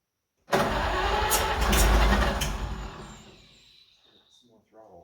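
An Oliver 70 tractor engine, idle for 12 years, cranks and catches on manual choke, running loud and rough for a few seconds before dying away, with a brief rumble near the end.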